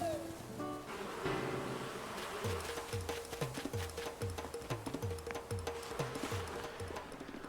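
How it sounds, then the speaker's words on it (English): Bees buzz in Animal Crossing: New Horizons, a droning swarm hum over rapid, rhythmic game footstep thuds as the character runs, loud and close throughout. "Ladies and gentlemen, bees."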